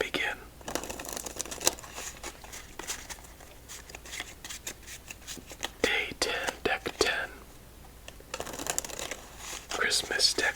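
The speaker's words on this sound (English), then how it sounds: "Let's do 3 shuffles and begin." A deck of playing cards being shuffled three times during a close-up solitaire session, crisp riffling bursts and soft card handling heard near, separated by quieter pauses.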